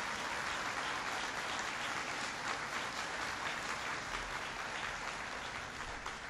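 An audience applauds during a presidential speech at Argonne, Illinois, producing a continuous, fairly uniform wash of clapping that is heard from a distance and holds steady with no talk over it.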